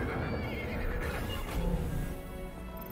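A horse whinnies loudly and close in the video game Stellar Blade, a drawn-out neigh over a steady background, with no talking.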